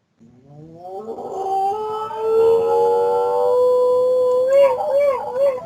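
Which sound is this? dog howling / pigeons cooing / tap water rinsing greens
dog howling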